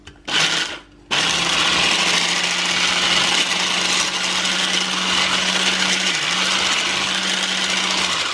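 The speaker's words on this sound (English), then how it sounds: "We are now going to whisk the double cream with the electric whisk until it is forming soft peaks." An electric whisk whipping double cream into soft peaks, a steady high motor whine that starts after a brief burst and runs on, loud and close, with a small dip near the end.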